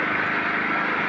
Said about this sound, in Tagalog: Papandar na yung ating generator.